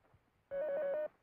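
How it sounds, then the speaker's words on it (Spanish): One short burst of a telephone ringing, a steady electronic trill lasting about half a second against near silence. "Teléfono."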